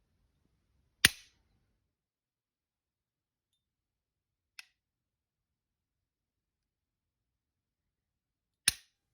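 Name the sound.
pulling trigger of Smith & Wesson SW9VE Sigma pistol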